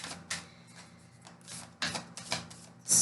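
Riffle shuffle of a deck of playing cards during a tarot-style reading: several quick crisp ruffling bursts at irregular intervals, close and fairly loud, with a sharper flurry at the end and no talking.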